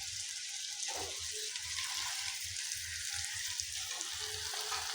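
Small shrimp and bitter gourd frying together in a pan: a soft, continuous sizzle at low volume with light rhythmic stirring thumps underneath and no talk.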